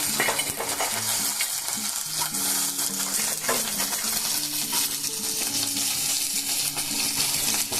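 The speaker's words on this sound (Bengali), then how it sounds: "কতগুলো চিনে বাদাম দেখুন আমি আগেই একটু শুকনো কড়াইয়ে ভেজে তুলে রেখেছি, এখন দিয়ে দেবো এখানে।" Dry-roasted peanuts rattle into a pan of frying onions and spices and are stirred, giving a continuous sizzle over clattering, scraping stirring strokes and the tick of nuts against the metal, with no talk.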